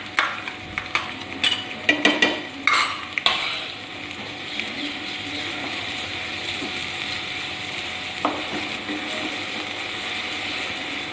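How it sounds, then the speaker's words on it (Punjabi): Onions and vegetables for homemade veg Manchurian hit a hot pan with a brief burst of clattering and stirring, then settle into a steady, close sizzle of frying that continues evenly. "ਤੇ ਹੁਣ ਪਾ ਦਾਂਗੇ ਅਨੀਅਨ। ਨਾਲ ਹੀ ਉਹ ਵੈਜੀਟੇਬਲਸ ਜਿਹੜੀਆਂ ਇਹ ਰੱਖੀਆਂ ਨੇ ਸੈਪਰੇਟ।"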